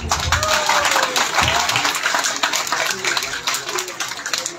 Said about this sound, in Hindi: आपकी मजबूत तालियां।